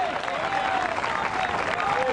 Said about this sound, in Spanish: Un aplauso de alabanza para el Dios Todopoderoso.